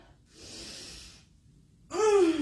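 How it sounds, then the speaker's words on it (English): During a mini band hip and glute workout, a soft, airy inhale is followed by a pause, then a louder, voiced breath out with a faint groan at the end. "Big breath up"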